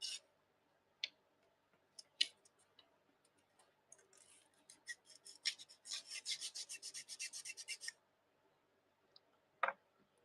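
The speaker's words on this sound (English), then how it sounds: "getting them sanded down" Hand sanding in an art studio, scattered scratchy strokes followed by a quick rhythmic run of rasping passes, close and quiet with pauses between.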